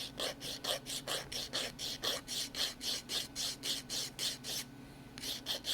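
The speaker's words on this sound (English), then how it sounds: "first tool I'm going to use is the sander" A hand nail file rasps back and forth across a fingernail in quick, even strokes, about three per second, soft and close, with a brief pause near the end.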